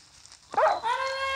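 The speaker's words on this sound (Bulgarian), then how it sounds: "Куче, дръж го." A tamed wolf dog in a video game lets out a single sharp bark that trails into a whining, tonal yelp, heard alone and fairly close.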